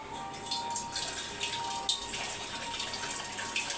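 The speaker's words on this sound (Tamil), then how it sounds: "நான் வந்து ஒரு கிளாஸ் தண்ணி ஊற்ற போகிறேன்" Water splashes and trickles steadily from a glass into a pot of fish curry, a continuous wet pouring sound close by with no talking.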